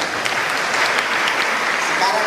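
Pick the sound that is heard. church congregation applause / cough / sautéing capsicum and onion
church congregation applause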